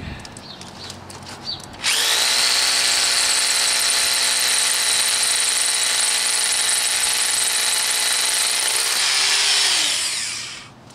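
Tungsten carbide drill bit boring into hard quartz, a loud high-pitched whining grind that starts abruptly after a faint prelude, holds steady for about eight seconds, then winds down and fades.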